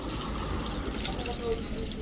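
Water poured for washing feet at home, a quiet, steady stream splashing and running throughout, with faint background voices.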